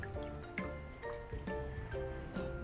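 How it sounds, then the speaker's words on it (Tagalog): Water poured from a makeshift container onto freshly planted pechay in soil lands as a series of irregular, close drips, splashes and squishy trickles. "Diligan mo siya."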